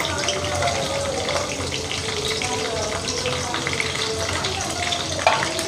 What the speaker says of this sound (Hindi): और लौंग और ब्लैक पेपर सब ऐड करके अच्छी तरह से फ्राई करेंगे